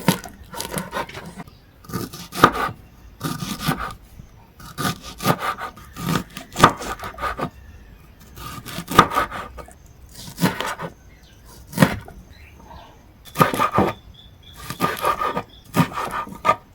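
Knife chopping rinsed vegetable stalks on a board for creamy tomato soup, a series of irregular, close, crisp cuts in short bursts separated by quiet gaps.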